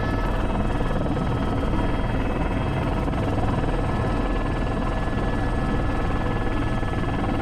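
Airbus H125 (AS350) helicopter on a heavy sling lift outdoors, its rotor and turbine making a loud, steady, close drone that holds throughout with no voices.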